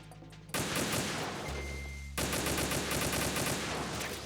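Gunfire in Metal Gear Solid 2, heard as dense, loud bursts of rapid shots that run almost without a break, briefly shifting in tone midway, with no voices.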